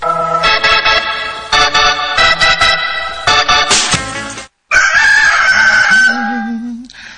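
A rooster crows loudly and close by in several long, harmonic calls broken by short pauses, with a brief silent gap before a final crow and a lower clucking note at the end.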